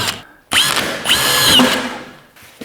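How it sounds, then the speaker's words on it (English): Screw gun driving a screw through board into a metal stud wall: a loud, close whirring burst that rises in pitch as the screw seats, then trails off with a brief click. "set the adjustment on the screw gun so that we're just going in"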